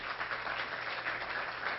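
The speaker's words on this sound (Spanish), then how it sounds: "un aplauso para ellas" Applause for panelists at a discussion panel, a dense, even wash of many hands clapping together, steady and moderately faint, with no distinct individual claps.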